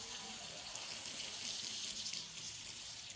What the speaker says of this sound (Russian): Давайте мы с вами посмотрим напор воды.